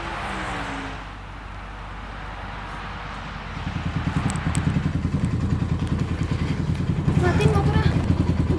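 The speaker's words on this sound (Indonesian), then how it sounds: "Matiin motornya" A motorcycle engine idles low and rumbling at first, then revs into a louder, rough putter with clattering, while people talk over it.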